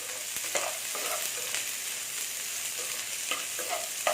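Sliced onions sauté in hot ghee in a pan for Mughlai chicken, giving a steady, close sizzle with soft scraping stirs now and then and no talking.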